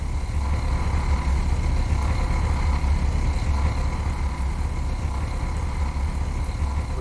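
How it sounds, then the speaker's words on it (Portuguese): A Mercedes-Benz O-400RSD coach bus engine runs steadily at idle, a deep continuous rumble with a faint whine layered on top, heard alone without talk. "Olha o motor"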